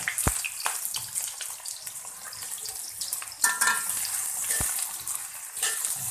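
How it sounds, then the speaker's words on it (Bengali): Five chopped onions hit hot oil for a hilsa fish curry and fry with a steady, bright sizzle and crackle, broken by a few close clinks and stirring knocks, with no talk. "এখন দিয়ে দিচ্ছি পেঁয়াজ কুচিগুলো।"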